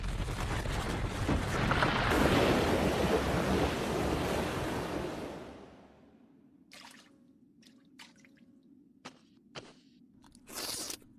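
Ocean waves in a planet-building video game surge as a loud, dense wash for about five seconds, then fade to a quiet ambience broken by scattered clicks and soft taps.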